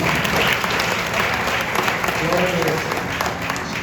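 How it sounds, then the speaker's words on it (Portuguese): Steady applause from a church congregation fills the space, an even wash of many hands clapping at full volume throughout with no break. "Vamos aplaudir Jesus na vida desse irmão."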